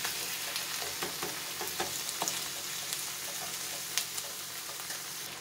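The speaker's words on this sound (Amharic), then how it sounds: "ነጭ ሽንኩርትና ዝንጅብል ጣል ጣል እናደርግበታለን። ማቁላላት ነው።" Garlic and ginger sauté in a pan for an Ethiopian dish, giving a steady, close sizzle with light stirring scrapes throughout and no voices.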